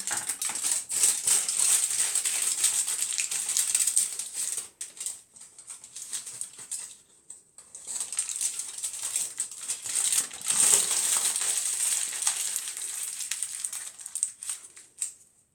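Aluminium foil crinkles and rustles steadily as it is tucked under short bleached blonde hair at the nape of the neck during at-home lowlighting, close and continuous with brief pauses.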